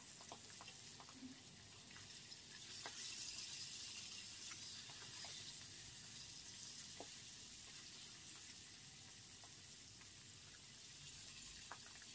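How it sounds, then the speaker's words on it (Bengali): Tilapia fish fry lightly in oil in a pan, giving a faint, steady sizzle dotted with small scattered pops and clicks. "মাছগুলোকে আমি উল্টি পাল্টিয়ে হালকা করে ভেজে নেব খুব কড়া করে এই মাছ আমি ভাজবো না"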